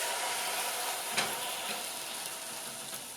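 A beef roast sears in a hot pan on a stovetop, giving a steady, close sizzle and frying hiss throughout, with one brief clatter partway through and no talking.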